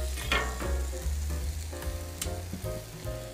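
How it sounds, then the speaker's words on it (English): Asparagus and other vegetables sizzle on a hot Camp Chef griddle, a steady close frying hiss with occasional scrapes and clinks of a spatula, no voices. "Got our asparagus going here real quick."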